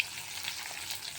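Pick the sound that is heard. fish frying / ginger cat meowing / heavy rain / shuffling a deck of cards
fish frying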